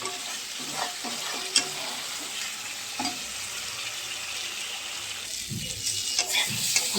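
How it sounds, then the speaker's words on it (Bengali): Spice masala with salt and turmeric is stir-fried in a pan, giving continuous sizzling with scraping stirs and occasional clinks, close and moderately loud, and no talk. "ভালো করে মশলাটাকে কষাতে হবে"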